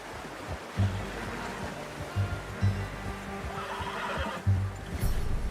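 A horse in the Western video game Red Dead Redemption 2 whinnies and snorts, with low hoof clip-clops and a steady ambient outdoor wash underneath.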